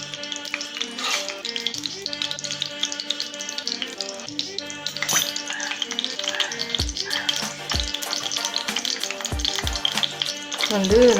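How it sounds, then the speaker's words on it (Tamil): Cashews frying in melted ghee for Tamil-style mandi biryani give a steady, close sizzle with busy crackling, soft clinks and taps throughout, and a few low thumps near the end. "இந்த கீ வந்து மெல்ட் ஆனவுடனே நம்ம ஒரு 10 முந்திரி எடுத்து வச்சுருக்கோம்"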